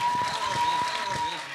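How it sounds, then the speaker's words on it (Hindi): Audience at the Arunachal Idol dance song round applauding for Lukam sir, a dense burst of clapping with a voice talking over it and a steady tone underneath. "तो लेडीज एंड जेंटलमैन, एक बार जोरदार तालियां हो जाए लुकम सर के लिए।"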